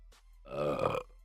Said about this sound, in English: When you get the carbonation out via a burp, man, it just feels so good